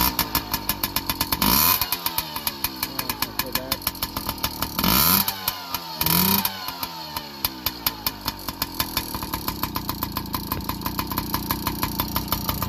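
1983 Yamaha PW50 with a rebuilt big-bore engine running close by, a buzzy, whiny two-stroke idle with several sharp blips of throttle.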